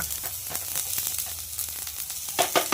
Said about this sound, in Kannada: ಈಗ ದಪ್ಪ ಮೆಣಸಿಕಾಯಿನೂ ಕೂಡ ಸೇರಿಸ್ಕೊತಾ ಇದ್ದೀವಿ